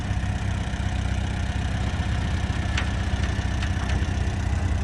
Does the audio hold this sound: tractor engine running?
yes